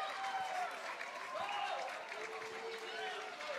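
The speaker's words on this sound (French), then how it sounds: "Il y a quand même de nombreux applaudissements." A stadium crowd applauds at a women's football match between Girondins de Bordeaux and Paris FC, a broad diffuse clapping wash beneath commentators talking throughout.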